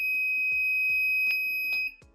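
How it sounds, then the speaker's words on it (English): A water tank full alarm buzzer on an ESP32-based water level monitor sounds a steady high electronic tone with short beeps before cutting off when reset, near and alone. "I can also press this button to reset the buzzer."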